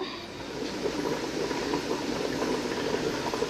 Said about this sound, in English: So as you can see, it's boiling.